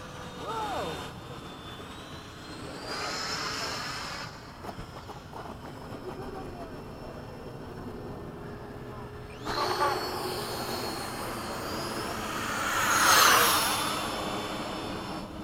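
FMS 80mm Hawk model jet taxiing back along the runway after a full-stop landing, its ducted-fan whine steady and close with rising surges, while people talk over it.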